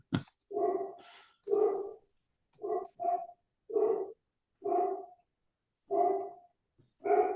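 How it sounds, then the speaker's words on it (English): A big lab mix dog barks about eight times, single woofs and a quick double, evenly spaced and fairly loud, with clean silence between each bark and no talk. "It's about 2 stories up, but he barks so loud."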